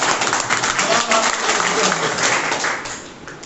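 An audience at a business plan seminar bursts into dense, continuous clapping that stays loud for a few seconds before tapering off, with voices faintly underneath.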